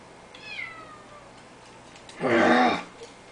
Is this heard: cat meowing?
yes